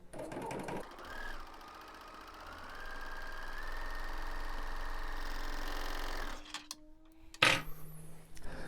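A Bernina L860 overlocker serger runs a steady machine whir for several seconds while sewing a 2-thread wrapped narrow overlock stitch, then stops and briefly restarts with a few clicks.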